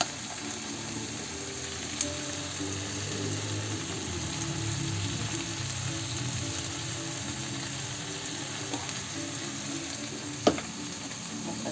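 Corn with a little corned beef being stirred in a frying pan, a steady close sizzle and fry with scraping stir sounds throughout, and no talking.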